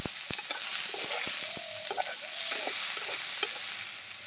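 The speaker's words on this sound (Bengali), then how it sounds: "বাদামটা একটু ভেজে নেব" Peanuts frying and being stirred in a pan for a snack dish, giving a steady close sizzle with repeated scraping taps of a spoon against the pan, with no voices.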